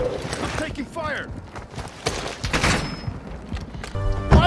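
Gunfire in Call of Duty: Warzone 2 comes as scattered shots and thuds mixed with game noise, while several voices talk loudly over it and a heavier burst lands at the end.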